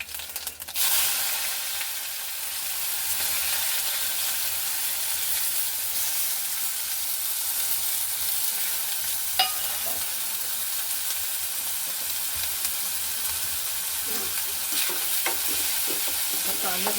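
Curry leaves and onion dropped into hot oil with cumin, giving a steady close sizzle and frying crackle with occasional stirring scrapes, no talk.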